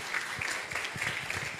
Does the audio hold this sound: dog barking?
no